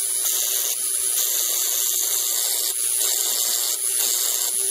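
Tesla plasma ball run at 12 volts with corona discharge, giving a steady high electrical buzz and hiss with slight periodic flutter, close and continuous, no voices.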